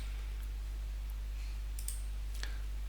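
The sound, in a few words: computer mouse click on Add button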